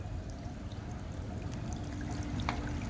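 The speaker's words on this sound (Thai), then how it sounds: "น้ำตกจำลองอีกกันหนึ่งนะครับ" Soft, continuous trickle of water from a small miniature garden waterfall among bonsai trees, faint and steady with a few light splashes, no talking.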